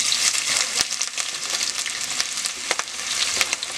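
Onion sizzling in hot oil on a medium stove, a loud close crackle with sharp spattering pops and a few clicks of a utensil, no voices.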